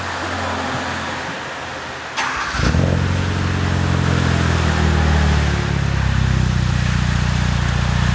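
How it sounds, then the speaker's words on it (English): A 2015 Hyundai Veloster Turbo fitted with a CNT Racing cat-back exhaust cold-starts with a sharp crank and bark, then settles into a loud, deep, steady idle rumble close by. "Everybody wants to know how it sounds when you start it up cold"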